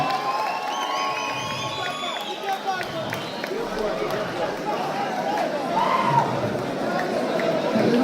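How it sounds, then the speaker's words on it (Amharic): Crowd at a fight event in Addis Ababa cheering and applauding the new champion after a 30-second bout, a dense continuous roar of voices and clapping with shouts rising near the end, steady and fairly loud. "አሸናፊው the winner ጆኒ ጂጂትሱ አንዴ ወጣ ጭብጨባ the new champion"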